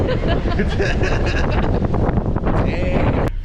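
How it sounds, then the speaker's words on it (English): Steady wind buffets the microphone with loud low rumbling gusts throughout, and faint voices come through underneath, outdoors in Austin, Texas. "It is windy here today."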